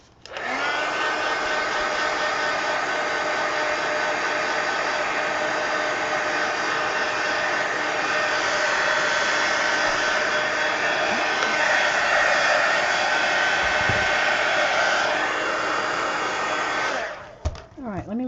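A hair dryer blows on a junk journal page in a steady, loud whir lasting most of the time, close by, then switches off near the end.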